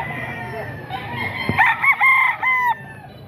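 A rooster crows close by, a loud drawn-out cock-a-doodle-doo with several rising and falling notes, while faint clucks and other fowl sounds fill the background at a poultry yard.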